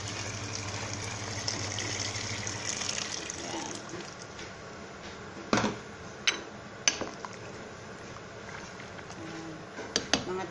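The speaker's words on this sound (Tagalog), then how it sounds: "Bubuhosan ko lang ng mainit na tubig." Hot water poured into a pot of sautéed mung beans: a steady rushing gush fills the first seconds, then gives way to scattered sharp clinks and knocks of utensils against the pot at close range.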